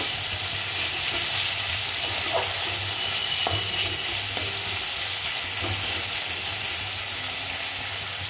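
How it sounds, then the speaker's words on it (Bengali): Chopped onion, tomato and green chili sizzle loudly in hot oil in a pan, a steady frying hiss with a few scraping stirs along the way. "তেল গরম হয়ে গেছে আর তেলে দিয়ে দিয়েছি পেঁয়াজ কুচি, টমেটো কুচি আর কাঁচা লঙ্কা কুচি"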